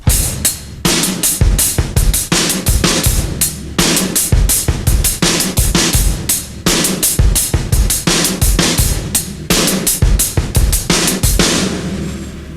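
A loud, close drum kit plays a repeating metal groove of kick and snare under steady hi-hat strokes. The rhythm holds a consistent tempo throughout, with no talking.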